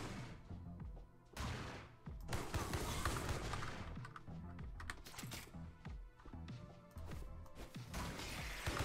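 Loud bursts of gunfire and crashing impacts from the fast-paced shooter game Mullet Mad Jack, dense and chaotic, with rapid shots packed together throughout.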